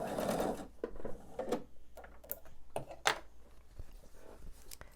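Sewing machine stitching quilt block pieces, a soft steady mechanical whir with small ticks, fairly quiet and close, heard alone without talk.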